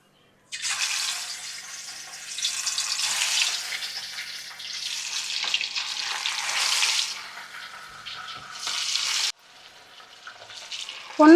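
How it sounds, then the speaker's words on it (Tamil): Steady hissing and crackling of chicken pieces deep frying in hot oil for Chicken 65, close and fairly loud, rising and falling in intensity before a brief quieter stretch. "இப்போது கறி பொரிக்கிறதுக்கு எண்ணெய் நல்லா சூடாயிடுச்சு."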